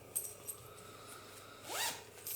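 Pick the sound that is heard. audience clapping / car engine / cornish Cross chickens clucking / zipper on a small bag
zipper on a small bag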